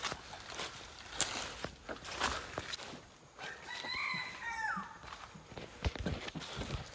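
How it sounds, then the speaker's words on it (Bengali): In the Sundarbans jungle, a rooster lets out one faint, drawn-out crow in the middle of the recording, among scattered clicks and light rustling in a quiet outdoor setting. "মুরগির ডাক শোনা গেল এক্ষুনি কিছুক্ষণ আগে"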